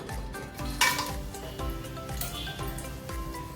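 Whole spices including cardamom, cloves, black pepper and star anise drop into hot oil in a pressure cooker, giving a close, steady sizzle with clinks of metal utensils against the pot.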